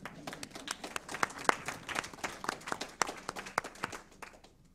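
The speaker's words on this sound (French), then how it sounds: "Donc vous pouvez vous applaudir." A small audience at a commemorative event on Poitiers internment camps applauds, sparse individual claps ringing out in an uneven, distinct rhythm, fairly quiet and somewhat distant.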